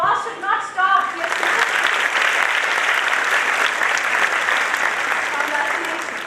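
A college orientation programme audience breaks into a big round of applause right after a brief spoken line, the clapping swelling into a loud, dense, sustained wash that holds steady before easing slightly at the end.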